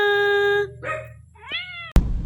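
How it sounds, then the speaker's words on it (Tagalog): A cat meows a few times close by, with a short rising call standing out over a steady low hum and ending in a sudden bump. "Playmate ng aking imported na pusa na si Wana."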